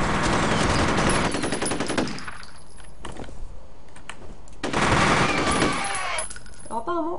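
Rapid machine gun bursts in the shooter video game F.E.A.R., loud and close, two long rattling volleys separated by a quieter stretch with scattered clicks, and brief talk in between.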